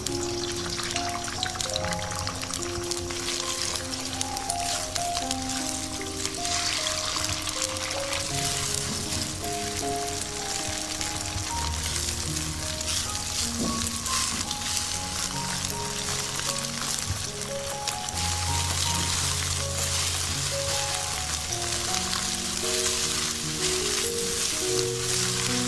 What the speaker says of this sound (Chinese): 锅中再次倒油，倒鸡蛋液炒熟。